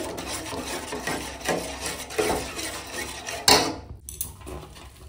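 Boiled red lentil dal being stirred with turmeric in a metal pot, with scraping and knocking of a spoon against the pot, close and uneven, with a louder clank near the end and no talking.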